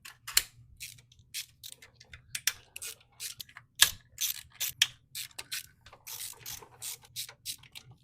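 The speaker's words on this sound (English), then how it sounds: "we are going to have to take the CVT cover off, which is going to be a whole bunch of 8mm bolts and then one 10mm for the Kickstarter. Break them all loose." A ratchet works loose a series of 8mm bolts on the CVT cover of a GY6 scooter engine. Close, crisp bursts of clicking come with short pauses between turns, with no talk.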